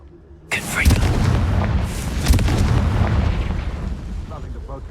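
A Confringo fire spell bursts in the Hogwarts Legacy video game: a sudden loud blast, then a long rumbling roar with a second sharp crack partway through, fading slowly.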